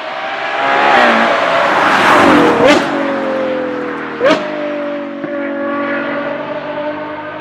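A Ferrari Purosangue V12 engine with a Novitec exhaust system revs and roars up close, pitch sweeping through gear shifts with sharp blips between.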